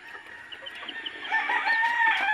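Chickens and chicks on a farm, with continuous high peeping and clucking from many birds that grows louder and busier toward the end, with no talk.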